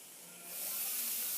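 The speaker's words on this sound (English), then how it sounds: "Look at all that steam." Steam hisses loudly from a pan of stir-fried broccoli and chicken with fish sauce just added, starting softer and swelling into a broad, steady sizzle that holds to the end.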